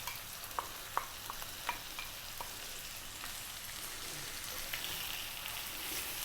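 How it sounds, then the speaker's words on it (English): Bacon, onion and garlic fry with salt, pepper and oregano while a utensil stirs them, with a few sharp clinks early on over a soft, continuous sizzle. "Let's go in with the garlic, the salt, pepper, and the oregano, and all of the bacon."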